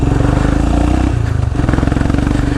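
An off-road motorcycle engine revs loudly and close on a broken gravel trail, its throbbing putter rising and dipping with throttle changes throughout.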